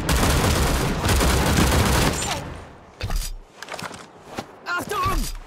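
Huot machine gun firing in the World War Heroes game: a loud, sustained burst of rapid automatic fire for about two seconds, then scattered single shots and clatter with shouted voices in between.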